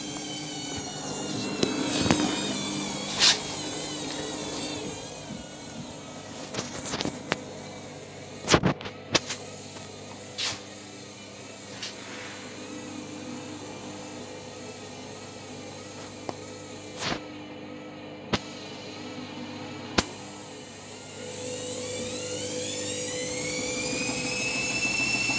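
Candy washing machine spinning on a Cottons Plus pre-wash cycle, a steady fairly quiet drum whir with occasional clicks and knocks over about twenty-five seconds.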